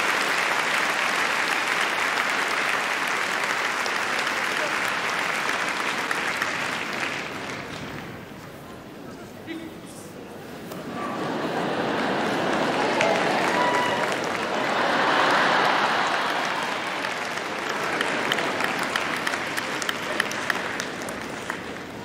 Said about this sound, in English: Big round of applause for Dusty, ladies and gentlemen.